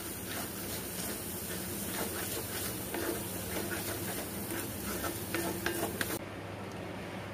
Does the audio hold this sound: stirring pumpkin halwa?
yes